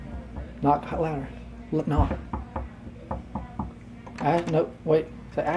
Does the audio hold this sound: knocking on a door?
yes